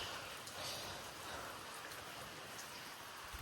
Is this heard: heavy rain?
yes